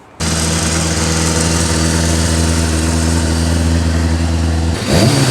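A serviced Kawasaki Ninja ZX6 motorcycle engine runs loud and close with a steady, even drone for about four and a half seconds, then blips briefly as it revs near the end.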